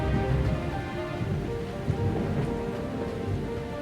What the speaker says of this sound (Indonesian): Kilat menyambar dan suara petir bergema di istana.